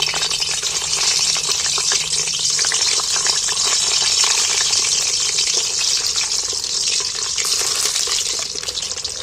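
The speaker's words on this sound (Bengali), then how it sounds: "তেলটা গরম হয়ে গেছে, তাই এবার আমি ডিমগুলো তেলের মধ্যে তুলে দিচ্ছি।" Eggs dropped into hot oil in a wok fry with a loud, dense, continuous hissing sizzle that holds steady throughout, with no talking.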